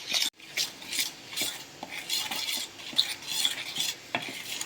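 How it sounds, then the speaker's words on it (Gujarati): Ghee and flour for moong dal mathari dough being mixed and rubbed together by hand, giving steady gritty scraping and squishing strokes in an irregular rhythm, close and fairly loud with no voices. "મિક્સ કરી દઈશું ઘી અને લોટ."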